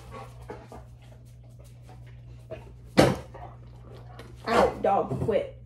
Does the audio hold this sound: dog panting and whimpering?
yes